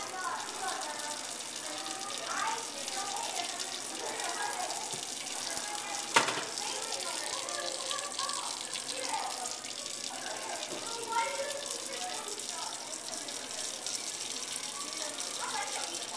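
Water runs from a sink tap in a steady, fairly loud hiss with splashing, while people talk faintly underneath during an electric water heater test.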